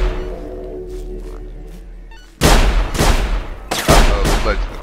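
Shotgun fire in a video game blasts suddenly after a quieter stretch, with two loud booming shots and lingering rumble.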